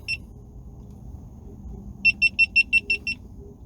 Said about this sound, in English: Sorry for all the beeps.